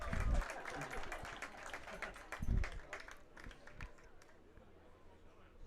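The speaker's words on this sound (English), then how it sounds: "A good applause." Spectators at a college baseball game between Swarthmore and Dickinson clap in scattered bursts, with louder swells near the start and again midway, fading toward the end.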